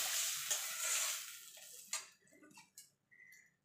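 A hot pan being stirred as water is poured in, giving a loud hiss and sizzle that fades within about two seconds into soft scattered clicks and light scraping.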